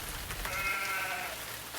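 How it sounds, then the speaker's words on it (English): A single sheep bleats in a drawn-out, wavering call lasting about a second, set against a dense, steady background wash. "You had better take your sheep inside."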